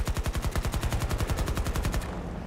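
Automatic gunfire in Battlefield 2042 sounds as a close, loud, rapid, evenly spaced stream of about twenty shots, ending abruptly and leaving a short echoing tail.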